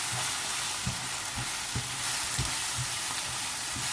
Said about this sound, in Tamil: 2 கரண்டி மிளகாத்தூளையும் போட்டு கொஞ்சம் லைட்டாக